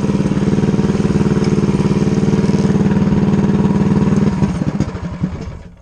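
A Coleman CT100U mini bike with a swapped engine fitted with a cam revs steadily with a rapid, chugging putter, then loosens and fades near the end, loud and close with no talk.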